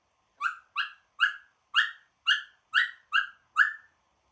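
A pet bird gives eight short, evenly spaced barking calls in a quick series, each a sharp rising yelp like a dog's bark, clear and close against a silent background.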